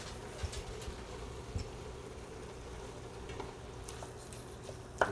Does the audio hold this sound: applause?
no